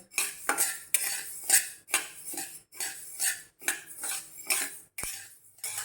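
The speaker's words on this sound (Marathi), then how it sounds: "आधी आपण बाजरी भाजून घेऊया" Pearl millet (bajra) is dry-roasted in a kadhai over a low flame, and a metal spatula scrapes and stirs it in a regular rhythm of about a dozen quiet, close strokes.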